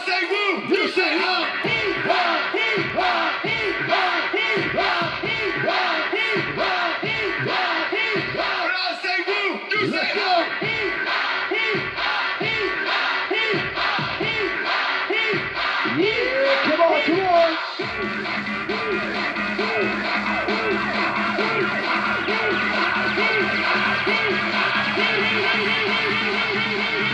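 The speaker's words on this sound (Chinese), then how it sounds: "继续来尖叫声" A crowd at the 2017 Linkou Culture Garden night market anniversary party yells and whoops in rhythmic bursts over loud, pulsing DJ dance music that runs without a break.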